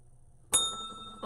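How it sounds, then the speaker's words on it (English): A single bell strikes with a sharp metallic ding, its bright tone ringing on and slowly fading over low room noise, close and fairly loud. "the bell done rung 5 times"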